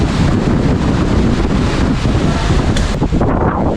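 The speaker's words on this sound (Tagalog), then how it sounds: "Lakas pa rin po yung hangin dito sa sa Cabiao." Strong wind after a typhoon in Cabiao, buffeting the microphone outdoors with a continuous loud roaring rush that barely lets up, with no voices.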